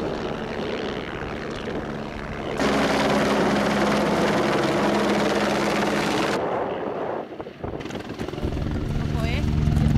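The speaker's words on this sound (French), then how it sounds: "il y a un hélico qui va arriver" Helicopter arriving near a mountain summit in the Pyrenees around Benasque: a steady rotor and engine roar that swells loudly in the middle, briefly drops, then builds again, with wind buffeting.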